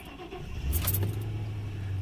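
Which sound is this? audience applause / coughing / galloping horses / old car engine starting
old car engine starting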